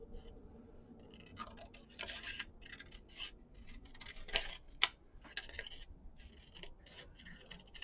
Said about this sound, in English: So then I'm just gonna cut this out, and I want to make sure I get that little bit of a curve.